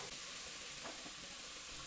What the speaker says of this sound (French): Je mélange régulièrement.